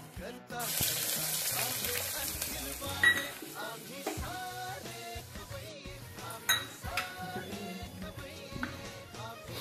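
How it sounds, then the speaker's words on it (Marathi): Mustard seeds, cumin and fenugreek seeds crackling and sizzling in hot oil inside a pressure cooker, with clinks of utensils and someone speaking over the kitchen noise. "कुकरमध्ये राई टाकते, जिरे टाकते, थोडीशी मामुलीची आपली मेथी टाकायची, मेथी दाणे"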